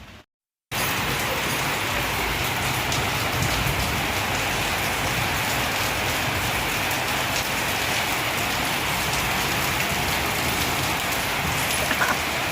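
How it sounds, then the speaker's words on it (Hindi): Heavy rain pours steadily and loudly at Bhurban in Murree, a dense continuous hiss that sets in after a brief silent start and holds for the rest of the stretch, with no voices over it. "अब बारिश तेज हो गई है।"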